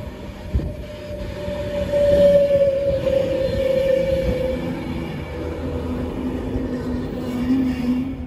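Inside an Avanti Pendolino train travelling away from Milton Keynes Central, a steady rumble and rhythmic wheel noise carry on throughout, with a faint squeal or hum rising and falling, and no talk.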